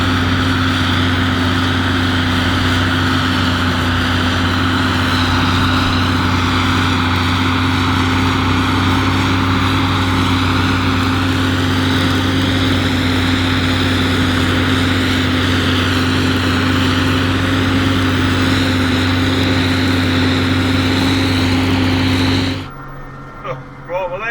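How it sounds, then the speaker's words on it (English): A Ford TW30 tractor's diesel engine runs at a steady loud idle, a constant deep drone heard up close for a long stretch, then cutting off abruptly near the end. "She's a lovely tractor."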